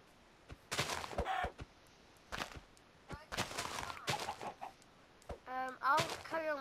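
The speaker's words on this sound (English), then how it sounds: "have to kill this chicken." A chicken in a Minecraft-style survival game clucks in short, repeated bursts alongside sharp hit sounds, loud and close.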